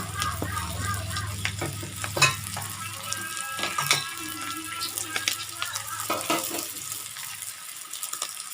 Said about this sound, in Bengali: টমেটো কুচি, দিয়ে ভালো করে কষিয়ে নিচ্ছি।